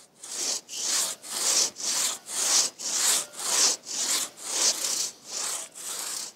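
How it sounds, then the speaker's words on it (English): Steady back-and-forth strokes of a hand saw biting through a thick tree trunk, about a dozen rhythmic rasping pulls, close and loud with no talking. "Then it's back to sawing the other side to meet up with the cut."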